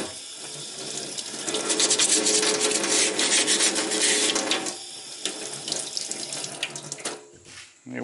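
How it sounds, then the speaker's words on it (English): Quick scraping of a weathered vent on a model plasma rifle, a close, dry rasping rub lasting several seconds before tapering off, with no voices. "give it a quick scrape"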